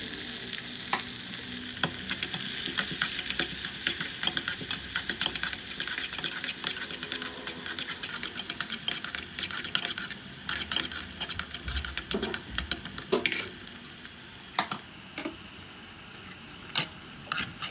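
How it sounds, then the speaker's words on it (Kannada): Cardamom, cloves, bay leaf and onions sautéing in a hot pan for baby corn biryani, a continuous close sizzle broken by frequent clicks and scrapes of stirring. "ಏಲಕ್ಕಿ ಕಾಯಿ, ಲವಂಗ ಮತ್ತು ಪಲಾವ್ ಎಲೆ, ಈರುಳ್ಳಿನ ಹಾಕ್ಕೊಳ್ಳಿ, ಚೆನ್ನಾಗಿ ಬಾಡಿಸ್ಕೊಳ್ಳಿ"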